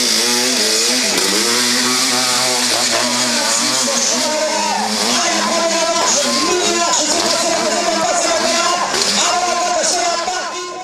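Prototype motorcycles roar up a steep slope at the Montée Impossible hill climb in Ayen, Corrèze, with loud, close engines revving and wailing through rising and falling pitch sweeps without a break.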